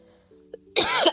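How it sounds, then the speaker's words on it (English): A single harsh, loud cough bursts out close by after a quiet, faintly tonal lead-in. "I can't even do that without coughing."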